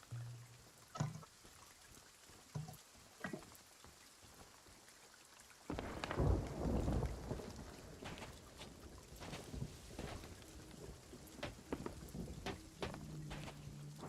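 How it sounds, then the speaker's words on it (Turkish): Thunderstorm with rain, a low rumble of thunder swelling midway over steady pattering rain, with scattered knocks and faint background sounds. "Tam da fırtına çıkıyor ha."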